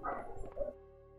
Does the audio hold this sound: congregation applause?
no